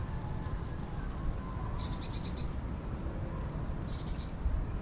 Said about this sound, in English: Look at all the bird noises.